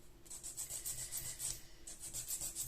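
A nail file rasps back and forth over powder nail polish on a fingernail, quick, close, rhythmic strokes with brief pauses, quiet and alone.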